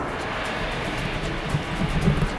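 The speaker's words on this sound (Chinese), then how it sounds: "又有飞机来了。" A fixed-wing airplane passes overhead, a steady distant low drone that swells slightly toward the end, with no talking.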